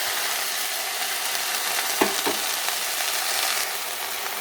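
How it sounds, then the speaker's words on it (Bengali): Green chillies and jute leaves fry in a hot pan, a continuous loud sizzle with a couple of brief stirring scrapes midway and no voices. "এবার আমি পাট শাকগুলো দিয়ে দেবো।"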